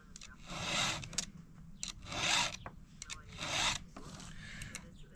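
A hand file rasps across the teeth of a chainsaw chain during sharpening, in three long, steady strokes with short scraping touches between them, close up and with no one talking.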